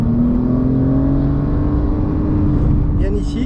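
A Porsche race car pulls hard down the track, its engine holding a loud, steady drone from the cockpit as it accelerates, with a voice speaking over the top.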